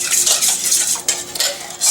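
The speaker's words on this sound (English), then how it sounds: "So I'm just going to simply mix and stir that together." A utensil stirs and mixes ingredients in a bowl for Korean-style beef noodles, giving quick scraping, clinking strokes against the bowl in a steady, close rhythm with no talking.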